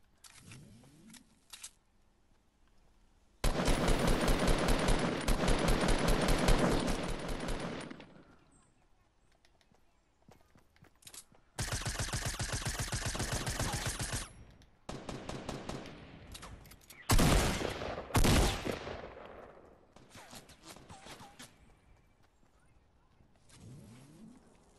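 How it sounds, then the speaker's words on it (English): Bursts of rapid automatic gunfire from enemies shooting at a player, long sustained volleys broken by shorter stuttering bursts and gaps, loud and dense, with a voice speaking in between. "Oh shoot, they're shooting me."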